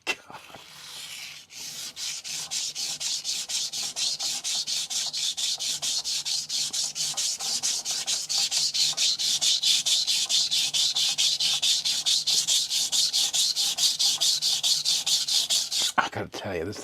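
Steel knife blade rasping rhythmically against a 400-grit vitrified diamond whetstone in quick, even back-and-forth strokes, loud and close, continuing steadily for many seconds.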